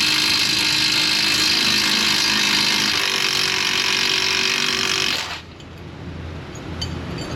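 A power wrench drives a Torx bit on a suspension stud and nut of a BMW 328i, a loud, steady mechanical whirring that runs for about five seconds and then cuts off, leaving quieter background noise.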